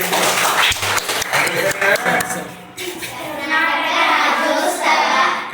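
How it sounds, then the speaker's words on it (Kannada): A group of schoolchildren in a classroom claps together, a rippling burst of applause rising under and after an adult's speech, with children's voices mixed in. "ವೆರಿ ಗುಡ್, ಚಪ್ಪಾಳೆ ಹಾಕಿ"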